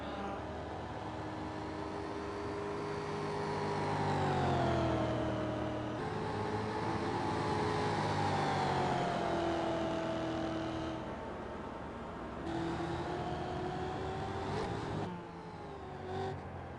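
Mazda MX-5 race cars lap the Homestead track, their engines droning and swelling as they rise and fall in pitch through gear changes, a continuous mid-distance roar with no break.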